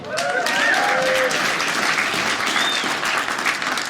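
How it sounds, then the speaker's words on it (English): An audience at a comedy show gives a round of dense, steady clapping that holds for several seconds. "Round of applause for rescuing an animal"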